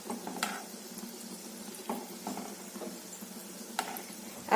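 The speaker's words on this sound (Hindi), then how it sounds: "तो इसे हम बिल्कुल लो फ्लेम पे फ्राई करेंगे।" Kala jamun frying in oil over a low flame, a soft steady sizzle with a few light clinks and stirring scrapes from a spoon in the pan, close and fairly quiet.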